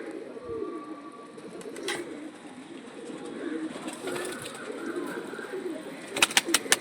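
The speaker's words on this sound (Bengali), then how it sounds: "এবার দেখুন পায়রাটা" A pigeon coos softly and steadily close by, with a few sharp wing flaps or clatters near the end and someone speaking briefly in the background.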